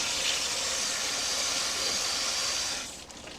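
Water from a garden hose rushes through a Greenstalk vertical planter in a desert garden, a loud steady hiss that holds for nearly three seconds and then drops off sharply.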